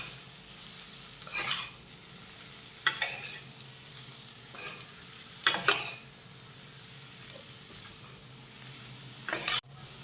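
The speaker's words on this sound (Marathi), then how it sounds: "ढोबळी मिरची बारीक चिरून घेतलेली आहे ती घालूयात मिक्स करून घेऊयात" Chopped capsicum (bell pepper) stirred into a spice mix in a pan for a dry sabzi, with four or five distinct scraping stirs spaced a few seconds apart over a soft, steady sizzle.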